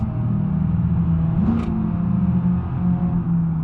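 Loud, raw car engine drone in BeamNG.drive from a car whose exhaust has fallen off, with a deep, rumbling tone and no muffling, holding a steady pitch throughout with a brief whooshing burst midway.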